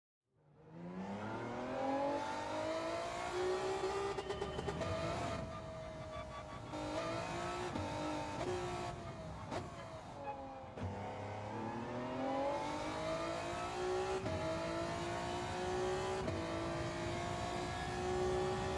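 A Honda NSX race car engine roars in Gran Turismo, revving up and down through gear changes with a loud, continuous, close drone, with brief tire squeals along the way.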